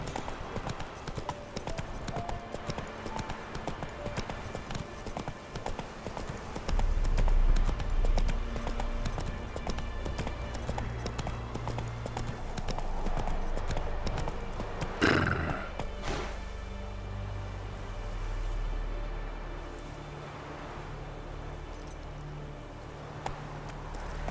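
Fast hoofbeats of the horse Roach galloping in The Witcher 3, a continuous clip-clop under game music, with a whinny and a sharp impact midway, then the gait slowing.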